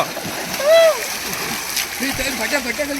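Splashing in the cold, fresh water of the Seetha river, a west-flowing tributary of the Tunga, with loud close splashes and a flowing stream behind, while voices, including a child's, call out over it.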